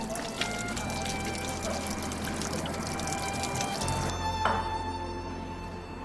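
Spring water in Minhe County, China is collected into a container, a steady close pouring trickle with bubbling and occasional drips running continuously throughout.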